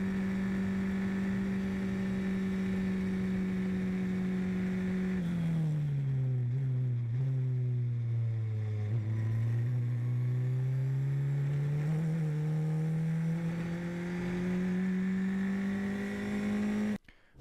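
A Formula 4 race car engine at full throttle in fifth gear near 180 km/h drones with a loud steady pitch, dips and slowly climbs back through a corner, then holds high again before a brief sharp break.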